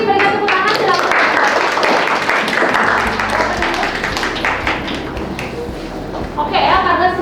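A classroom of students in an Indonesian teacher-training lesson claps for a group after its poster presentation, loud close hand claps mixed with voices talking throughout.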